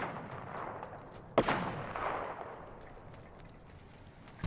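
Apex Legends gunfire: one sharp, loud shot that rings out and decays, followed by quieter scattered pops near the end.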